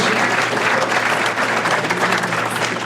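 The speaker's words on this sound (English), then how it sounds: "And how about a round of applause for Dennis McCarthy?" An audience at an annual chamber of commerce dinner claps in a dense, sustained round of applause that fills the room evenly from start to finish.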